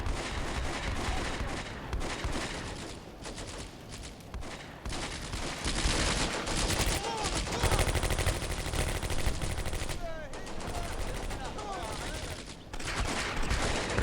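Machine gun fire in the WWII game Combat Mission: Beyond Overlord, dense bursts of automatic shots and rattling volleys running continuously with brief lulls, loud and close, with occasional talk underneath.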